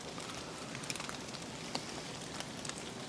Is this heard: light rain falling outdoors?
yes